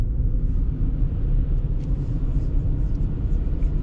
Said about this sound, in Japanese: 今エンジンブレーキを使いながら降りてます